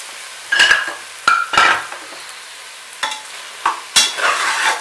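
Mushrooms stirred and sautéed in biryani masala in a pan: a handful of close, distinct scraping stir strokes over a soft sizzle, with quiet gaps between them and no voices.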